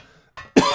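A single short cough follows a brief softer throat sound, close and loud after near silence, in a Half-Life Sven Co-op game session.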